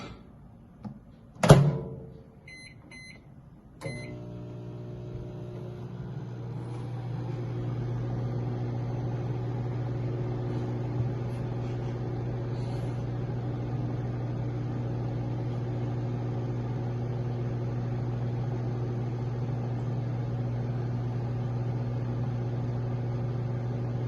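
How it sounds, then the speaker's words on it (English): A microwave oven runs for 30 seconds in a home science experiment: a door thunk and a few beeps, another thud, then a steady low electrical hum with a faint fan whir that continues unbroken. "you need to put it in a microwave for 30 seconds"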